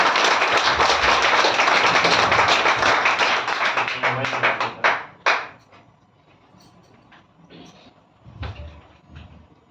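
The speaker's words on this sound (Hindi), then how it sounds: "एक बार जोरदार तालियां बजा सकते हैं क्या?" An audience at a live product demonstration event bursts into loud, dense applause that holds for several seconds, then thins out into a few scattered claps and knocks before fading.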